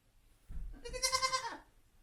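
A single goat bleats nearby, a wavering, nasal cry lasting about a second, preceded by a soft rustle.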